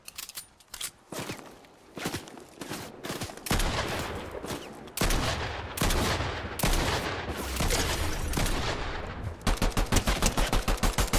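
Rapid Monarch pistol gunfire in the Fortnite video game, sharp shots in quick bursts mixed with other gunfire and action noise, loud and close, growing denser toward the end.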